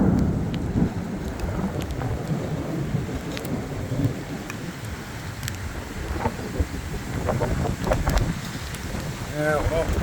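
An electrical thunderstorm with wind: a steady roar of gusts buffets the microphone while rain and distant rumbles of thunder swell and fade throughout, with brief voices near the end.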